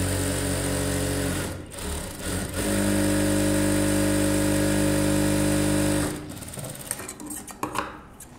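Sewing machine stitching the neck of a close neck blouse, with a loud whirring, humming run that briefly stops and restarts before halting, followed by light handling clatter.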